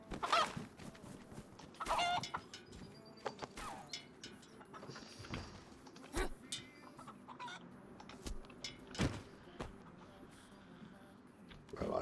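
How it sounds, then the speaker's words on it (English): Chickens cluck repeatedly in a zombie survival video game, a mix of short clucks and squawks at close range over steady background ambience, with a faint voice underneath at times. "You can hear the chicken, right?"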